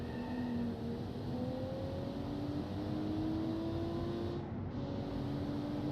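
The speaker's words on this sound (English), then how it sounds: "Oh, listen to that exhaust." A car exhaust in the Automation driving game on a mountain touge road, droning steadily as the engine revs climb slowly and evenly, a continuous close engine tone with no talking.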